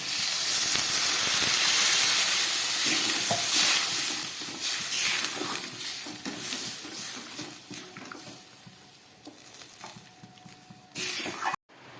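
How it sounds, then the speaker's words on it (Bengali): Water poured into a simmering shukto curry of cashew and poppy-seed paste, giving a loud, steady steam hiss that gradually fades, with a few clatters near the end. "এবার আমি দিয়ে দিচ্ছি এতে জল।"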